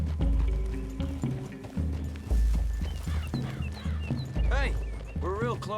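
Horses' hooves in the video game Red Dead Redemption 2: steady clip-clop of several horses walking through a clearing, with snorts and a whinny, under music and someone talking.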